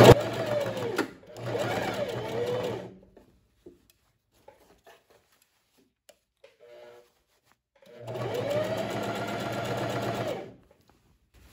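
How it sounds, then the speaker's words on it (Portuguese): A sewing machine runs a straight joining seam on a long puff sleeve with cuff, starting with a backstitch: close whirring bursts of stitching, two short runs, a quiet gap with faint clicks, then another run of a few seconds. "É interessante fazer um retrocesso do comecinho da costura."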